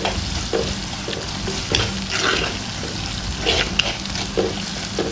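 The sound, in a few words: shallots frying in pan for mackerel curry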